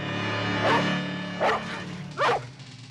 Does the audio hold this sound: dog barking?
yes